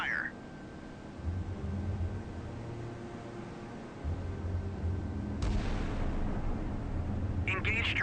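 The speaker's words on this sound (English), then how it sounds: "Engage track 7034. Salvo fire." Naval guns firing a salvo in the Sea Power game: booming low blasts rumble under a steady electronic tone, and a sharper report lands near the end as voices speak.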